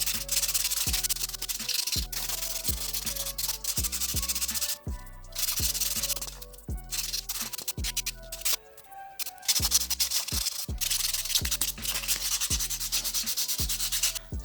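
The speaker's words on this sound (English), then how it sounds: "So I'm going in with a smoother buffing block, and I will smooth this" A smooth, gritless buffing block rubs across a fingernail in quick rhythmic strokes, a close, dry, repetitive scrubbing with brief pauses between passes.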